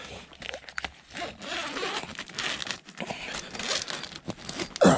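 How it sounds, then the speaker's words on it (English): The zipper of an Alpine Mountain Gear Weekender 3 tent is pulled in short, raspy runs, with fabric rustling and crinkling around it, close up and fairly quiet. "Zipper's pretty clean, pretty easy to move."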